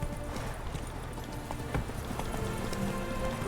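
Horse hooves clip-clop in The Witcher 3, a continuous trotting rhythm of moderately loud hoof falls over ambient game background noise, with no talking.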